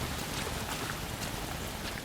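Steady rain falling in the video game LA Noire Remastered, a dense, even hiss of drops with faint splashes, holding at a constant level throughout with no pauses.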